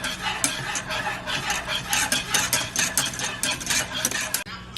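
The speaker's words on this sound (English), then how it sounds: "Immediately you want to start whisking." Whisk scraping and clinking steadily against a pot of grits for Cajun shrimp and grits, a busy repetitive metallic stirring up close with a low hum underneath and no talking.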